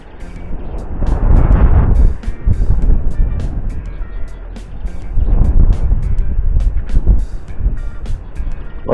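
Strong wind buffets the microphone outdoors during magnet fishing, giving a loud, continuous low rumble that surges and eases in gusts, with no clear voices.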